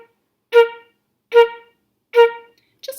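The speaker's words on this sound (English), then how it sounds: "So those 4 quarter notes that you see behind me would sound like this as a staccato." Four short, detached staccato notes at an even pulse, each separated by silence; the first three are clear and loud, and the fourth is a faint clipped attack at the very end.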